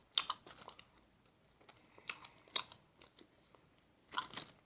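Crunching and biting on a Lotte throat candy, with close, irregular crisp cracks that come in separate bursts and pause between them, with no talking.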